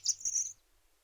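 Cheep, a bird in the fantasy adventure game The Book of Unwritten Tales 2, gives a short burst of bright high chirps lasting about half a second, alone and fairly clear, followed by quiet.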